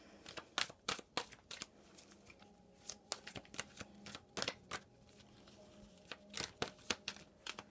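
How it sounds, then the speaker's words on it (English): Oracle tarot cards are shuffled by hand close up, giving repeated crisp riffling flutters and soft slaps in an uneven rhythm, quiet and alone with no talking. "here's what the cards look like, and I'm shuffling them for you."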